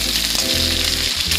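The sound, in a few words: frying onion, bay leaf, nigella and chilli in oil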